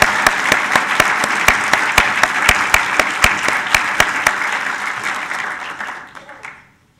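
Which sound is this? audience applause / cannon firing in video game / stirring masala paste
audience applause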